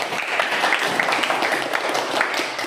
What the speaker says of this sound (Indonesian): Berikan tepuk tangan kepada kelompok.